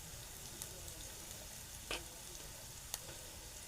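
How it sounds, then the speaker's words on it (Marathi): Onion-garlic masala sautéing with a vegetable in a hot pan, giving a steady soft sizzle with a few brief stirring clicks, faint and close, no voices. "थोडासा आपण कांदा लसूण मसाला टाकू त्याच्यात"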